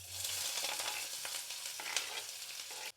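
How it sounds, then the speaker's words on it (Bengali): Onion and garlic frying in hot oil in a pot, a steady close sizzle that holds throughout and cuts off abruptly at the end. "তেল গরম হয়ে গেলে দিয়ে দিব পেঁয়াজ এবং রসুন।"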